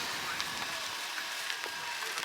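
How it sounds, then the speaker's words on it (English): Rain falling outdoors, a soft, steady hiss of drops with faint scattered patters, fairly quiet and continuous without voices. "It's raining. it's now raining."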